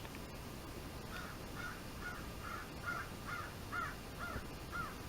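Crows caw outdoors on a quiet morning, a run of about nine evenly spaced calls in steady rhythm, moderately distant over a low background hush with no talking.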